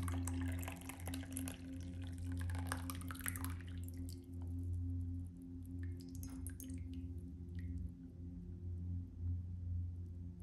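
Black tea pours from a glass ice-sculpture style tea-ware set, a soft trickle and drips over a steady low hum, quiet and close, with no talk.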